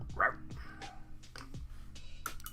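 The neighbour's dog barks next door in the morning: a quick series of sharp barks about half a second apart, moderately loud and slightly distant, with no talking.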